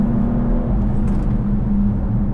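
A 2020 Porsche Macan Turbo, a 4,200-pound SUV, accelerating hard in manual mode, heard as a loud, steady, low engine drone with road rumble that holds throughout without a break.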